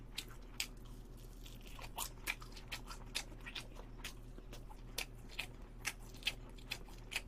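Someone eats soy garlic and red hot garlic BBQ chicken dipped in sauce, with crisp crunchy bites and chewing repeating at an irregular pace, close and quiet over a low steady hum.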